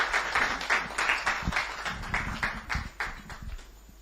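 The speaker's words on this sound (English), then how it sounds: "Give me a warm round of applause, please." Audience clapping at a corporate farm launch event in Lagos, a steady round of applause with dense overlapping claps that carries on for several seconds, moderately loud and fading slightly toward the end.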